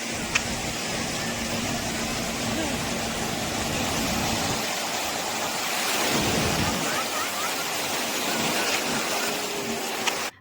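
Sea waves break along the beach at Puri in the evening while people bathe, a steady broad surf wash that swells and recedes, with crowd noise blended in throughout.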